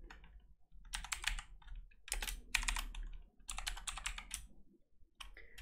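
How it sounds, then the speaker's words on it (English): Bursts of typing on a computer keyboard while Python class code is written, quick clustered keystrokes in several runs separated by short pauses, close and clear with no talking. "I'm going to type it first and tell you what it does after"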